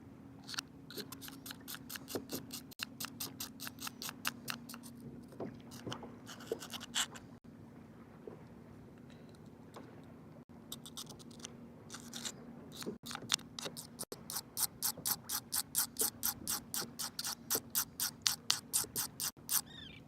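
A knife blade is drawn repeatedly through the coarse slot of a handheld sharpener, producing quick rhythmic bursts of gritty rasping strokes, close and crisp, in several runs with short pauses, over a faint steady background hum.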